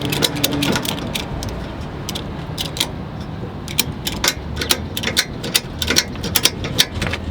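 Ratchet tie-down strap being tightened to hold two sportbikes in a Toyota Tacoma truck, repeated sharp mechanical clicks in short bursts, close and fairly loud over a faint background hum.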